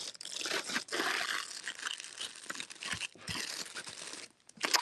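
Crinkly premium fabric, an antique quilt top sold by the yard, handled up close, giving loud, bright crackling and rustling in bursts with brief near-silent pauses.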